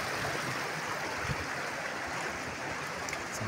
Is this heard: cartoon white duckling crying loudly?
no